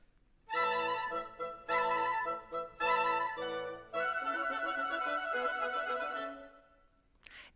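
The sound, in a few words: full orchestral woodwind section playing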